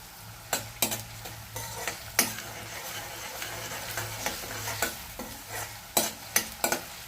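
Onion with a little salt frying in a pan makes a steady low sizzle, broken by repeated sharp clacks and scrapes of a spatula stirring against the pan.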